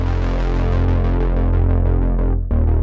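Synth preset played with the filter cutoff lowered, a dull, muffled tone sustaining over a deep bass layer, with repeated note onsets and a brief dip before a fresh note near the end, loud and alone.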